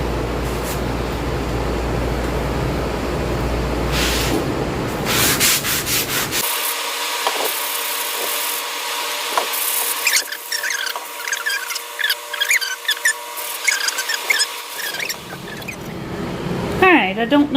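Sponge scrubbing dirt from old wooden furniture makes repeated rough rubbing and squeaking strokes, close and steady, with a voice talking between passes.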